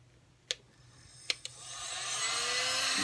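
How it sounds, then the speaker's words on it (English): A heat gun warming up over a cork surface gives a few sharp clicks, then its blowing whine and airflow swell gradually from faint to a steady rushing hiss. "let the heat gun warm up a little bit"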